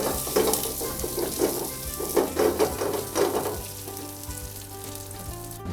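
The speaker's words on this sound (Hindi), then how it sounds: "सबसे पहले हम पैन में तेल डाल के हमारा प्याज, पुदीना और ग्रीन चिली को सौटे करेंगे जब तक वो ब्राउन ना हो जाए।" Onion, mint and green chili sautéing in hot oil in a pan, a steady close sizzle and crackle with a few soft stirring scrapes, no talking.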